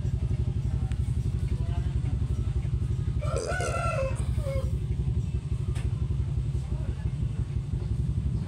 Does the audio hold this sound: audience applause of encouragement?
no